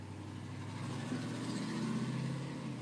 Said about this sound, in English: that car must need a muffler because he's very loud